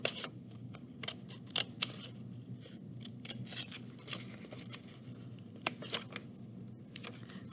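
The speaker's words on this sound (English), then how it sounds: "I can just cut right into my project now because I don't need that." Scissors snip through fabric while cutting pieces for a sewn coffee cozy, giving a steady run of sharp, close blade clicks and slicing sounds at an irregular pace.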